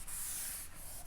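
Eraser or hand rubbing steadily across a board to wipe away written math notes, a continuous close scratchy rubbing with brief dips, no talking.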